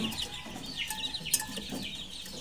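A rooster on a farm clucks in short, scratchy bursts over steady outdoor background noise, with no one talking.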